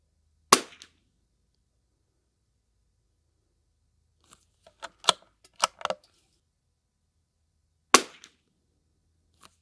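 Rifle shots from a CZ455 Trainer with an aftermarket trigger at an outdoor range: sharp, loud single reports near the start and again near the end, with a cluster of quieter clicks and clacks between them, no talking.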